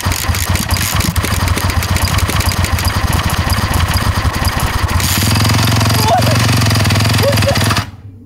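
A 2017 Yamaha YZ250F dirt bike engine, unused for seven months, sputters and revs loudly in a steady mechanical drone, cutting off near the end.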